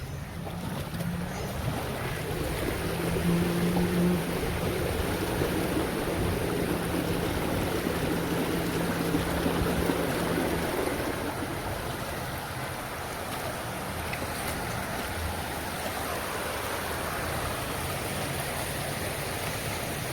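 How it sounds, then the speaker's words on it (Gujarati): Floodwater after heavy rain rushes beneath a bridge toward a market area, a steady broadband roar of flowing water that holds constant and fairly loud throughout, with no voices. "પાણી નીચેથી જઈ રહ્યું છે"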